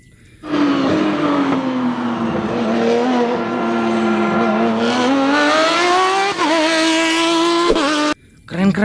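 Formula One race car engine whines at high pitch, holding a steady rising drone for several seconds before cutting off abruptly, close and loud, likely a sound effect from a toy race car.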